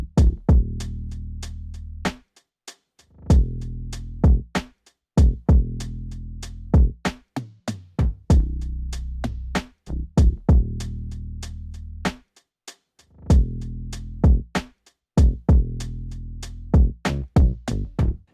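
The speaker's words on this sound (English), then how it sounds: "I wanted to add some fills, so I went and grabbed these two tom sounds" Two tom sounds playing drum fills within a full programmed R&B drum beat: punchy kicks and snares in steady bars, with rolling tom runs closing phrases, loud and with no voices.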